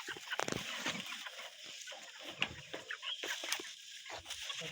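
Many broiler chickens inside a farm house, a busy chorus of clucks and soft squawks overlapping continuously at moderate volume, with no one speaking.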